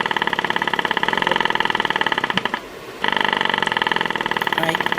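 A disconnected home-health wound vac pump runs loud with a rapid, steady buzzing pulse, briefly cutting out for about half a second before resuming at the same level.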